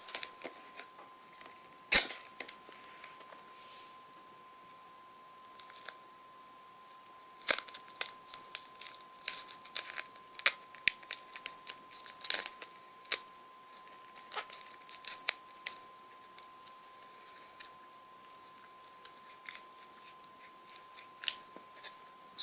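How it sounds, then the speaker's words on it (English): Duct tape pulled, torn and wrapped around a homemade self-defense weapon, making a long run of sharp crackling rips and crinkles in irregular bursts, close and fairly quiet, with no talk. "So let me get this tape."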